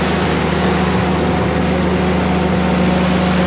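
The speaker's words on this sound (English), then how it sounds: "This seems to be idling well." A Jeep Willys engine idles steadily and loudly with a constant low rumble and even hum throughout, no speech over it.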